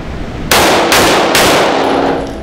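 Three loud, close pistol shots from an FK BRNO PSD fired at an outdoor range, spaced under half a second apart, each sharp crack running into the next and ringing out afterward.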